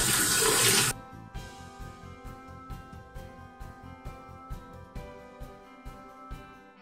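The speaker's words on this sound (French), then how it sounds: "Et je vais venir rincer." Tap water runs loudly for about a second while a L'Oréal Argile Pure clay face mask is rinsed off, then the flow stops and quieter rhythmic knocks follow.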